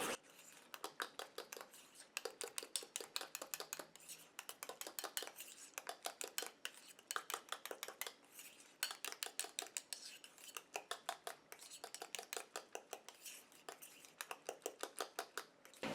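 Homemade hair conditioner ingredients are whisked briskly in a small bowl, producing rapid rhythmic clinking and scraping in bursts with short pauses, close and fairly quiet.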